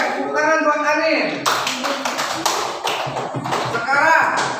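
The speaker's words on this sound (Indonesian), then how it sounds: "tepuk tangan buat Anin" Pupils in a classroom clapping for a classmate, a burst of scattered hand claps over a teacher's voice and children's chatter, with speech before and after the applause.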